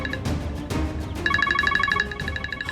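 A mobile phone ringtone for an incoming call in a Hindi TV drama scene, a bright repeating electronic melody with evenly pulsed notes that starts partway through after some bumps and rustle, loud and clear with no talk over it.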